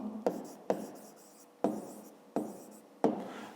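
A pen scratches across paper during a fifth-grade maths exercise, five distinct quick writing strokes at an uneven rhythm, close and fairly quiet, with no speech.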